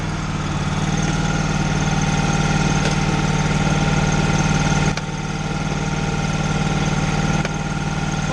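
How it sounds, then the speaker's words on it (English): A Kawasaki FX691V 22-horsepower engine on a mower runs at a steady idle, giving a continuous close, loud droning hum with a slight shift in tone partway through and no talking. "So this is the FX691V Kawasaki, so 22 horsepower"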